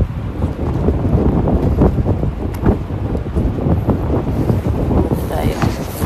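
Cold wind blowing near a partly frozen lake in Canada, heavy gusty buffeting and rumble across the microphone that stays loud and fairly constant, with brief surges.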